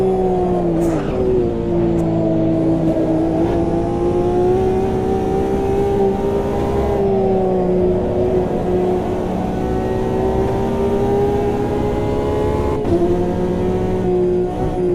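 Race cars in Automobilista 2, including a Hypercar and GTE, with a loud close engine drone holding a steady pitch and shifting gradually as the car accelerates through gears.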